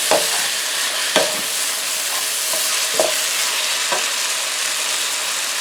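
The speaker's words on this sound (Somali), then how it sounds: "hilibka wuu noo shiilmay xoogaa. hadda waxaan ku darsanaynaa yaanyada." Beef frying in a pot with bell pepper for a Somali pasta sauce, a loud continuous sizzle broken by sharp spoon scrapes and stirs at irregular intervals, with no talking.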